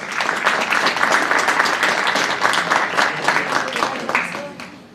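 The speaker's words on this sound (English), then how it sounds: "everybody give a round of applause to Ms. Furman" A round of applause from the audience at a township board of education meeting, steady dense clapping held for several seconds before tapering off at the end.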